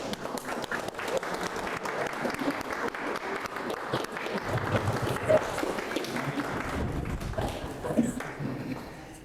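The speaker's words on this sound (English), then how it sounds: "please give them an applause" Audience applause after men are asked to turn and clap for the ladies at a church service, a steady dense wash of many hands clapping for several seconds, swelling slightly midway.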